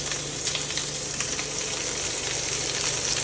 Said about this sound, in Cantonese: 攪勻佢，冇俾佢黐埋一齊